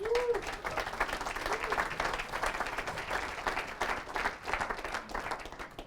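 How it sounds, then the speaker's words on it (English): An audience at a real estate program event breaks into sustained applause, a steady dense patter of many hands clapping for several seconds, fairly distant and even in level. "give Gary a huge round of applause"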